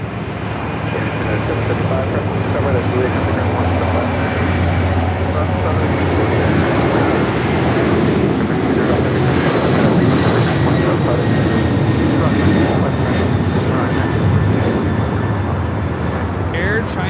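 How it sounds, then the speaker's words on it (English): A Boeing 747-400 freighter takes off at LAX, a loud, broad engine roar that holds steady throughout, with a faint higher whine above it. "Cargo 8442 taking off to Shenyang on the 747-400 freighter."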